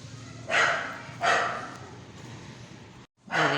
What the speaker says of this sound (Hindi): साथ वालों ने जो है ना डॉगी रखा हुआ, वो बहुत बोलता है, दिन को भी रात को भी बोलता ही रहता है